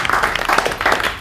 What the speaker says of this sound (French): Vous pouvez vous applaudir tous ensemble.